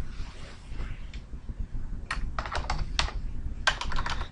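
Keys clack on a computer keyboard in quick irregular clusters, close up, over a low background hum.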